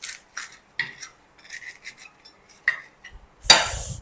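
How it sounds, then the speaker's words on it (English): A knife cuts through crispy Thai roti, giving a series of short dry crackles and scrapes with a brief harsher crunch near the end, close and fairly quiet with gaps between strokes. "If it's crispy, you can cut through just like that."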